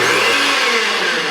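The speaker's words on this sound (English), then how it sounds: "Now we're just going to blend that together." Electric blender running loud and steady, mixing a potato pancake batter of two eggs and regular flour in a home kitchen; a dense whirring motor drone fills the whole moment with no talk.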